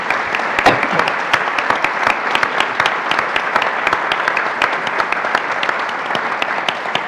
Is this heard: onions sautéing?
no